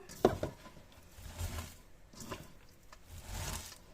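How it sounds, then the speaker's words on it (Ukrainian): Salted shredded cabbage being tossed and mixed by hand, with soft rubbing, squishing and patting in a few separate bursts, close and fairly quiet, with no talking. "Спочатку я солю, перемішую."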